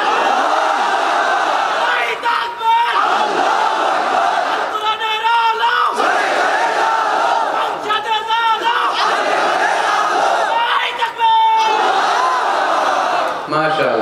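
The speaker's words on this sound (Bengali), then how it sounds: "তাকবীর পড়েন তো দেখি আল্লাহর নামে পড়েন, লিল্লাহি তাকবীর।" A large crowd at a Bengali Islamic religious gathering roaring takbir in unison, repeated massed shouts swelling every couple of seconds, loud and continuous with a leader's voice calling between them.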